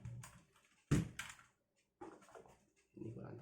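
Keys clack on an Aula F2058 mechanical keyboard with blue switches, close and crisp, in a few short bursts separated by brief silences.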